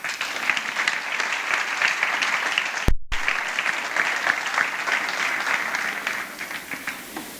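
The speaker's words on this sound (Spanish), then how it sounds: "Damos un aplauso al Señor." Sustained applause from a church congregation during a Sunday service, dense and steady clapping that carries on for several seconds.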